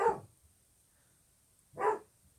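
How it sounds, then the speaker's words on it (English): A dog indoors barks at a postman, two short, separate barks about two seconds apart against a quiet background. "Just waiting on my dog to bark because that was a postie."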